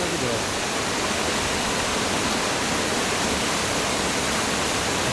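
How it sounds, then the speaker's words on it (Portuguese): Two waterfalls spill into a green pool and tumble on into a smaller cascade, a dense, constant roar of falling water close by, with no break or variation. "Duas cachoeiras vendo, caindo num poço verde e depois despencando naquela outra cachoeirinha"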